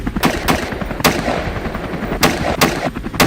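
Bursts of gunfire ring out during a wild boar hunt over cornfields, several sharp loud shots in quick irregular succession with a helicopter drone behind them.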